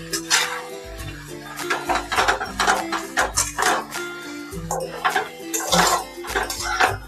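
Chicken chilli with soy sauce being tossed and stirred in a pan, with a utensil repeatedly scraping and clanking against the metal in an irregular rhythm. The sounds are close and fairly loud, with no voices.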